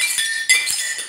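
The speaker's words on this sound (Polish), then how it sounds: "Kiedy segreguję szkło," Glass bottles and jars clink together while being sorted for recycling, a run of bright, sharp clinks, some overlapping, with one louder knock near the middle and no voices.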